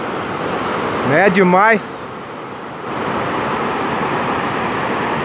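Steady broadband rush of a waterfall at a dam, heard close and continuous, with someone briefly speaking over it.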